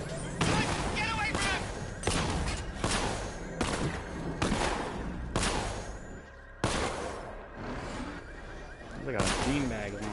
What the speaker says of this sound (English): Like a beanbag launcher or something